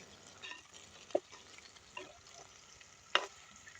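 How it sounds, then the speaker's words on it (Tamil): Broad beans frying in oil are stirred in a pan, giving a faint, steady sizzle broken by a few sharp scraping clicks from the spoon. "நல்ல வடிவாக இது ஒரு கிண்டி விட்டு மூடி கொஞ்சம் அவியா விடுவோம் எண்ணெயில் புரிஞ்சு வரட்டும்"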